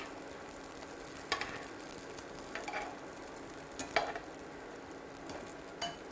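Croutons fry in a pan with a faint, steady sizzle, broken by a few sharp scraping stirs of a utensil against the pan.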